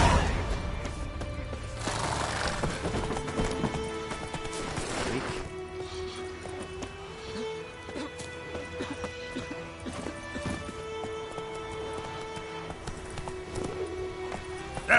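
Roach the horse in The Witcher 3 clip-clops steadily at a gallop with a brief whinny, over dense game music and ambience that stay at a steady level throughout.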